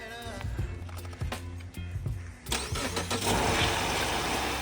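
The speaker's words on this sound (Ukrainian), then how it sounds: "ми будемо перший раз заводити цю машину от в такому стані" A 2018 Subaru Outback engine, started for the first time while under repair, cranks and catches at about two and a half seconds, then revs loudly and settles into a rough, steady run close by.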